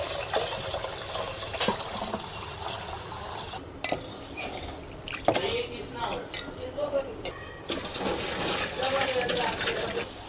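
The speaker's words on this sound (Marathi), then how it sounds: "चण्याची डाळ आता धुते" Chana dal is rinsed in water at a kitchen sink, with tap flow, splashing and the clatter of a pot continuing throughout and a voice heard at times.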